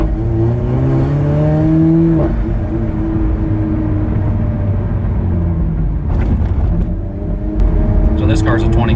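A 2017 Alfa Romeo 4C sports car driving, its engine rumbling and rising in pitch as it accelerates through gears, steady and close, with people talking over it.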